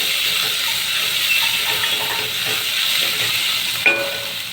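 Crushed garlic and ginger sizzle as they hit hot oil in a pan for spicy Puneri misal, giving a steady, close frying hiss with a brief sharper crackle near the end and no talking.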